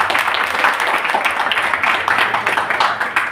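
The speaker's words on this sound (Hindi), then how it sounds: "आप सब लोग अपनी ताली बजाओ" Audience applause at a devotional Hindi discourse on the Srimad Bhagavatam, a dense, steady wash of many hands clapping throughout, fairly loud and close.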